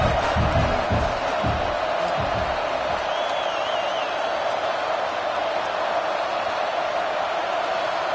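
A packed college football stadium crowd roars in the fourth quarter, a dense, steady wall of cheering and yelling that holds loud and continuous throughout, with a few low thumps early on.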